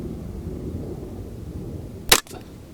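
One sharp, close rifle crack from a Ruger 10/22 on a shooting range cuts through steady low background rumble, a brief loud report that dies away within a split second.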